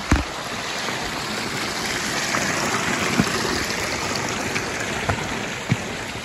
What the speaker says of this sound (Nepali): बिहान बिहान झर्नाको आवाज सुन्दा पानी call call call call call call बगेको